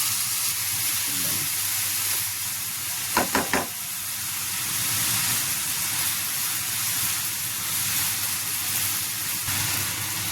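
Onion frying in a pan, with sliced snake gourd about to be added once it softens, giving a steady loud sizzle throughout, with a few brief scraping stirs of a spatula near the middle.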